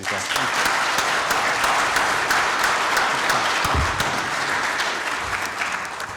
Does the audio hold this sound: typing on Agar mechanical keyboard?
no